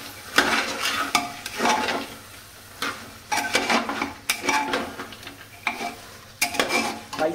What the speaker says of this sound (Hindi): एक अच्छा सा इसको स्टर दूँगा, मतलब मिक्स करूँगा अच्छी तरह।